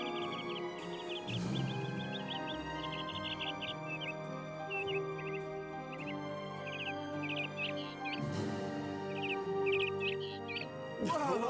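Hunting birds calling in an animated show about Genghis Khan, repeated short chirps and trills in quick bursts over a steady background musical score.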